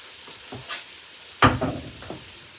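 A spice blend hits hot oil with a faint, short sizzle and a soft stir, one brighter crackle standing out briefly before fading.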